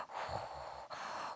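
A voice imitates ordinary snoring in a short, breathy, snorting rasp, two close inhaled snores in quick succession with no words.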